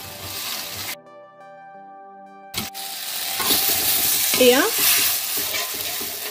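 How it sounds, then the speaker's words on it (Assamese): Masala and tomatoes fry in hot oil for a rajma curry, with loud, close sizzling and scraping stirs building after a short tonal interlude, and a brief voice heard over the pan. "এইখিনি ধুনীয়াকৈ ভাজিব লাগিব"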